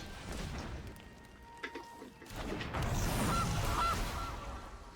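A goose honks in MTG Arena when a Goose card is played, two short nasal calls over the game's low ambient rumble and music.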